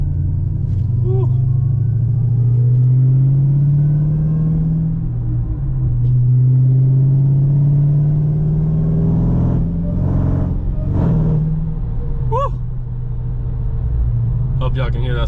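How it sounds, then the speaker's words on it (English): A Dodge Challenger Hellcat's supercharged engine during a burnout, a loud close rumbling drone with rising and falling revs and a thin whine on top, with a person talking over it. "Hope y'all can hear that supercharger like I can."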